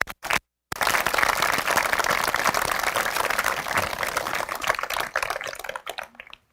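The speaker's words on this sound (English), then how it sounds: "Can we give them another round of applause?" Sustained applause from a school graduation audience fills the hall, a dense steady clatter of many hands after a brief silent gap, fading out toward the end.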